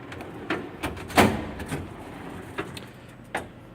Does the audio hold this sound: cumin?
no